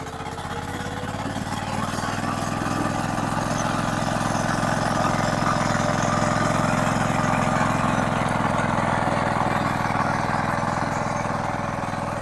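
A walk-behind tractor (motoblock) engine runs loud and close at a steady, rough drone that holds an even level throughout, with no talking.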